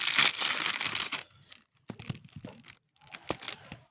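A Bass Travel Mid pedal board, model PBT501, is unpacked from its packaging, with a loud opening burst of crinkling wrap followed by brief rustles, taps and crackles.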